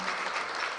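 Audience applause at a Ghana Premier League partnership launch, a dense, loud wash of clapping sustained through a short burst.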